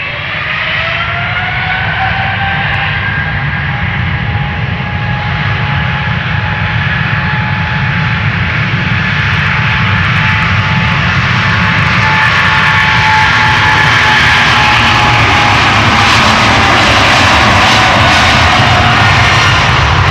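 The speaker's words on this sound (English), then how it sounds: "Going to Shanghai, China Eastern Airlines, 777-300ER. Let's go." A nine-year-old China Eastern Airlines Boeing 777-300ER jet takes off from Amsterdam Schiphol's Polderbaan, its engines roaring loud and steady for the whole stretch, with a whining tone sliding higher over the deep rumble.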